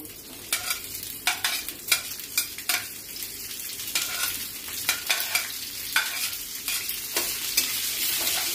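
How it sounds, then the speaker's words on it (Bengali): Okra and onions frying in white oil, a bright sizzle punctuated by a rhythmic series of sharp spatula strokes against the pan, close and fairly loud, with nobody speaking. "এবার সাদা তেলে ঢ্যাঁড়স আর পেঁয়াজগুলো ভাজবো"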